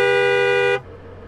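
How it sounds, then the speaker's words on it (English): A cartoon car horn blares in one loud, steady honk lasting under a second, then cuts off abruptly, leaving only quiet background. "Hey, honk the horn."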